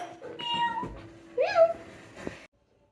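A domestic cat meows indoors, a short rising-and-falling call standing out clearly over low room noise and a few faint background sounds.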